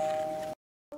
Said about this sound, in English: as the doorbell ring